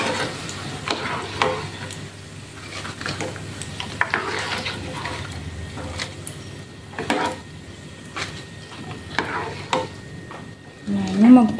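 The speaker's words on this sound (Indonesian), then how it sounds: "Ini kita goreng di api kecil aja ya teman-teman, supaya matangnya merata ya." Royco stick snacks frying in a pan over low heat, a soft continuous sizzle with occasional stirring clinks, with a person talking over it.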